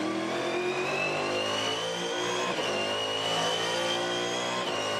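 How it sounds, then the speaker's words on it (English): A Supercars race car engine screams near the top of its rev range during a 2017 race, a loud, continuous, harmonic howl that rises slightly and holds steady throughout without a break. "Right up in the top of the rev range where it's hurting it."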